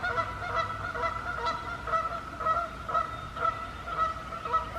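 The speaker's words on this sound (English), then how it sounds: "For some reason, the geese prefer that area." Geese honk over and over at a lake in a wooded forest park on a spring morning, a steady chorus of calls from a flock down below, at middle distance with no talking.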